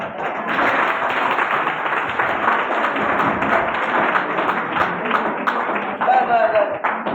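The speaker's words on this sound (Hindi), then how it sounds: "ये ताली मैंने तुमको बजवाई है" A classroom of students claps steadily in dense applause lasting the whole stretch, fairly loud and continuous, with voices mixed in underneath.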